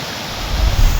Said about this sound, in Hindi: चोटियों से ढलान की तरफ झरने फूट पड़े।